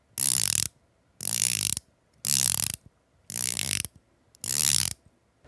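A watch bezel rotated by hand in five separate bursts, each a fast, bright run of ratcheting clicks lasting about half a second, very close and alone against silence.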